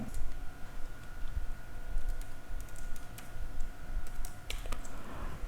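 Keys tapped on a computer keyboard while entering an XLOOKUP formula in an Excel spreadsheet, a steady run of close, soft clicks over a faint hum with no speech.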